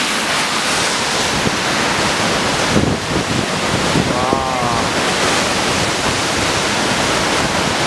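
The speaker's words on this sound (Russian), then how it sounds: "Водопад сам посыпает." A waterfall in Norway roars steadily as a dense, broadband rush of falling water, loud and close throughout, with wind buffeting the microphone and faint voices briefly in the mix.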